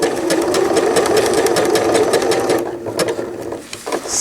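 A sewing machine stitches a cloth diaper cover with gussets in short rapid bursts of needle clatter, pausing briefly partway through before a few more stitches, close and loud with no talking.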